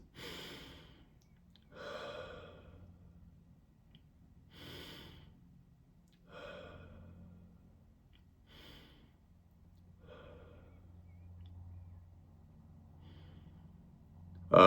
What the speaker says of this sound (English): So 3 breaths.